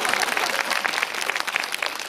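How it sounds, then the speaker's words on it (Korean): An audience at a cinema talk event with opera tenors breaks into brisk, dense applause, a short burst of many hands clapping close by at an even level, with a faint murmur underneath. "네, 박수."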